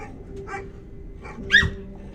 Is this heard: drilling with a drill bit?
no